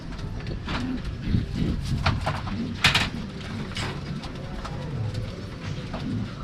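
Racing pigeons cooing in a loft, soft repeated murmuring calls with scattered wing flutters and shuffling, close and continuous.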